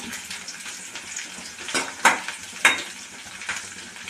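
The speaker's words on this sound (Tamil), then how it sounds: "பச்சை மிளகாயும் சேர்த்துக்கோங்க சேர்த்துட்டு நல்லா வதக்கிடுங்க" Garlic and green chilies sauté in a hot pan with a soft steady sizzle, broken by a few brief louder spatters and scrapes as the mix is stirred.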